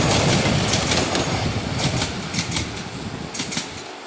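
Express train 135 pulls out of Buriram station in Thailand, its steady rolling rumble filling the air with rhythmic clickety-clack of wheels over rail joints, loud and close throughout.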